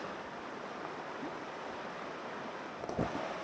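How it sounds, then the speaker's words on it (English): A cold mountain stream flowing in Cataloochee Valley, a steady, soft rushing wash of water with a brief splash or knock near the end and no talk. "A mountain stream, feet in the water."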